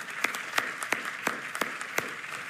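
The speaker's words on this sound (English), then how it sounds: "Let's give them all a virtual round of applause." Sustained applause from an audience at the Year in Infrastructure 2020 event, a steady dense patter of many hands with a few sharper claps standing out, moderately loud and with no voices over it.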